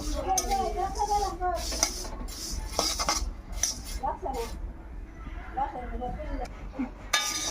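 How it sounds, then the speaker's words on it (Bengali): Flattened rice (chira) is stirred and fried in a wok, with repeated metallic scrapes and clinks of a utensil against the pan, while a person talks intermittently. "চিরাগুলো প্রথমে ভেজে নেবো"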